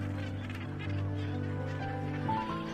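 Harsh, honking Cape gannet calls from a crowded colony, overlapping and continuous, rising to a louder raucous cry near the end.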